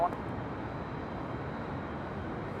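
An Airbus A350 jet taking off from runway 24 left at LAX, heard from a hotel rooftop as a steady, broad engine roar without breaks.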